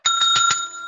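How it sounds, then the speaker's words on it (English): A hand bell is rung in a quick series of about four bright, ringing strikes close by, the metallic tone sustaining briefly afterward. "Where's my bell? I need my bell."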